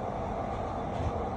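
A London Underground train gives a dense, steady rumble and roar, heard up close for a brief moment.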